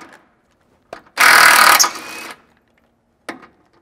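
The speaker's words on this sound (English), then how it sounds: "We're going to do that with a 21 millimeter socket." A 21 mm socket on a ratchet works loose a factory tow hook bolt under a 100 Series Land Cruiser, one sustained close burst of clicking and grinding of about a second, bracketed by brief knocks.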